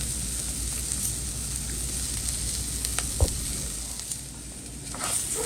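Rice frying in a pan for poblano rice until golden brown, a steady close sizzle throughout with a faint stir or scrape near the middle.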